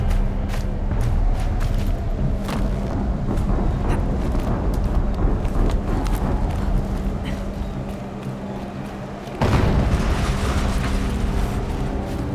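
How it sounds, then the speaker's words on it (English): Explosions boom in the open-world video game Horizon Zero Dawn, a dense rumbling roar with scattered cracks and a sharp new blast near the end, all loud and continuous. "An explosion."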